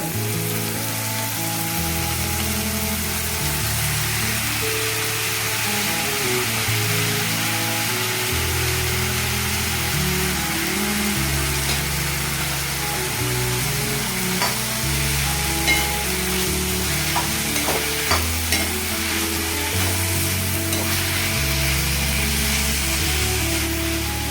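Radish pieces and curry leaves fry in hot oil in a pan, giving a steady, dense sizzle that runs the whole time at close range with no talking.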